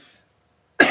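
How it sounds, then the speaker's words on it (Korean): A single sharp cough bursts out at the very end after near silence. "오늘따라 왜 이렇게 기침이 자꾸 나죠?"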